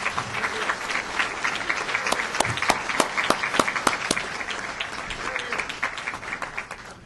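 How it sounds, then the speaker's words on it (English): Warm applause from a gala crowd honoring fire company past presidents at an anniversary celebration, dense steady clapping with a few sharper claps standing out, lasting throughout and tapering slightly at the end. "A round of applause again for them."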